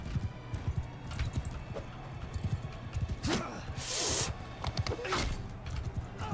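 Horse hooves clip-clopping in the Mount and Blade Bannerlord video game, a steady running rhythm of hoofbeats with a brief whoosh midway, heard alone.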